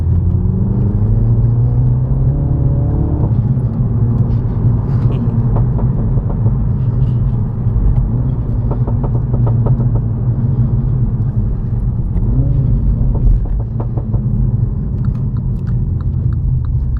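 Mini JCW with 300 brake horsepower cruises a busy motorway at night, a steady close engine and road drone with tyre rumble from inside the cabin, no talk.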